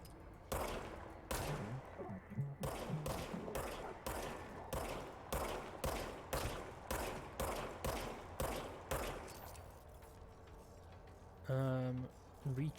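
The player's gun fires in the video game Control as a rapid series of sharp, evenly spaced shots, loud and close, ending in a brief pause before a short mechanical recharge whine.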